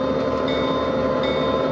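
An HO scale model train, the southbound Shoshone led by a diesel engine, rolling into a model Denver Union Station on a Colorado & Southern layout, with a steady low rumble and faint high hum throughout.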